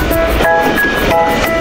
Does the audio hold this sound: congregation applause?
no